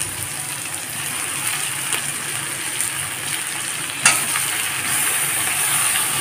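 Bombay duck (lote fish) frying with onions in a pan over low flame, a steady broadband sizzle throughout with a sharp crackling burst around the midpoint as the fish goes in, then continuing at a slightly fuller level.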